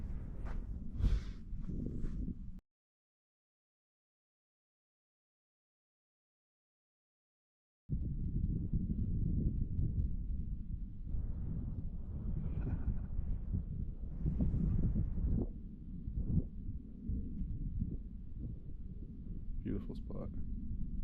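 Gusty wind buffets the microphone at the Kelso sand dunes in low, rumbling bursts, broken by a few seconds of dead silence, with someone talking over parts of it.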